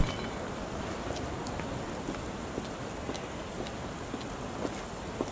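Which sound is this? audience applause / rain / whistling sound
rain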